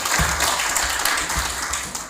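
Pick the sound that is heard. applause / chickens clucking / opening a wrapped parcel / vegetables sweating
applause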